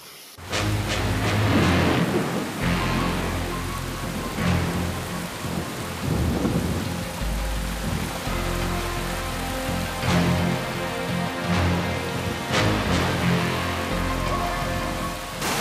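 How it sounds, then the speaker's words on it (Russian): A midsummer thunderstorm in Ukhta, Russia, with heavy rain pouring steadily throughout and several loud thunder cracks and rumbles rolling in close, no voices present. "Какая гроза!"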